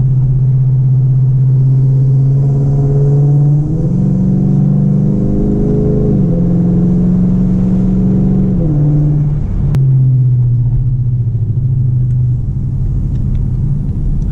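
A Dodge Challenger's loud, low engine rumble drones steadily, its pitch stepping up and down as the car accelerates and shifts, close by throughout.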